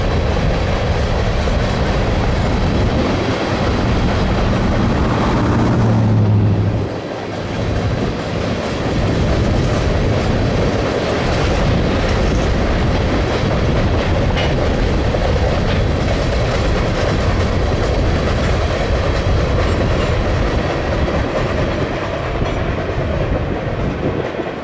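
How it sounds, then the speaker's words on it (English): CSX freight train 5446 West rolls past in the Shenandoah Valley, loud and close, with a brief horn blast early and then a long, steady rumble and clatter of cars on the rails. "CSX trains operating over the BB identify themselves by their lead engine and directional heading, with CSX 5446 West making a wonderful debut"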